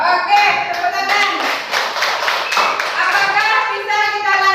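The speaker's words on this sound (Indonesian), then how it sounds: "Oke, tepuk tangan." A school class claps hands together in a classroom, a brisk burst of clapping mixed with children's voices for a few seconds.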